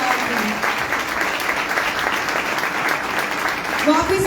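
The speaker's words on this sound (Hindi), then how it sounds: "जरा जोरदार तालियां बजाएं।" A congregation at a Hindi/Urdu revival church meeting claps loudly and steadily, a dense, even roar of hands sustained throughout with no break.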